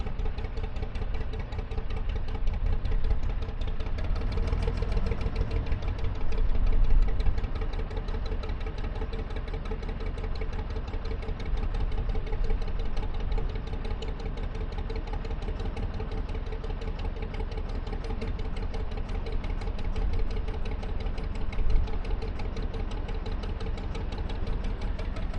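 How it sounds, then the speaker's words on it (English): A narrowboat engine idles on the Thames early in the morning, running a little rough, with a steady low mechanical thrum and fine regular knocking pulses that continue evenly and close by, without speech. "the engine's a bit spooky first thing this morning"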